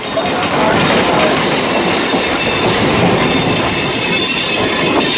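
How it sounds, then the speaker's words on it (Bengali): A Howrah–Panskura local train pulls out of platform 13 at Howrah station, a loud, continuous roar of wheels on rails with metallic squealing and rattling carriages. "আমাদের হাওড়া পাঁশকুড়া লোকাল এই মুহূর্তে ছেড়ে বেরোচ্ছে হাওড়া স্টেশনের 13 নম্বর"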